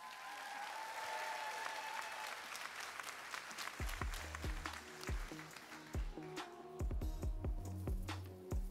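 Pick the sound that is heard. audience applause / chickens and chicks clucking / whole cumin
audience applause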